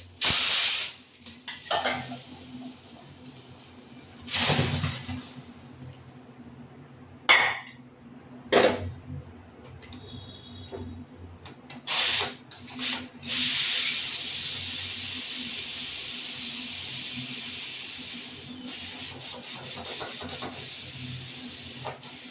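A pressure cooker cooking mutton kosha lets off several short, sharp bursts of steam hiss, then settles into a long, steady, loud jet of hissing steam that runs to the end, with faint clinks in the background.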